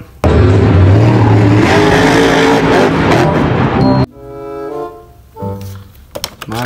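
A toy jeep plays a loud electronic engine-revving sound for about four seconds, then it cuts to quieter broken tones and clicks.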